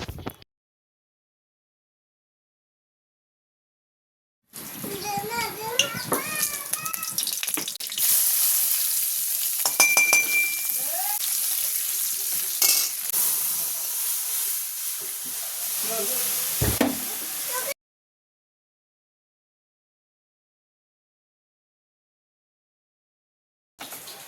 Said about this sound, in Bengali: শুকনো লঙ্কা, তেজপাতা আর সাথে জিরে, দেওয়ার পরে কাঁকরোল আলুটাকে ভালো করে ভেজে নিব